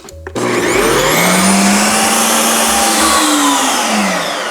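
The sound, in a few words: 7-in-1 ice cream maker churning sorbet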